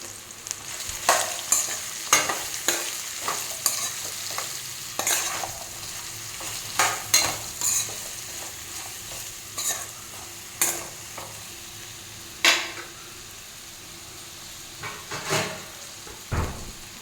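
Ridge gourd fries in a pan with turmeric and salt, a steady close sizzle broken by repeated sharp spatula scrapes and stirs at irregular intervals, with no talking.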